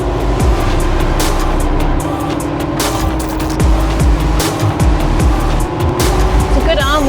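An Oshkosh M1070 tank hauler truck driving, giving a loud continuous engine and road rumble with shifting tones and rattles, with people talking over it.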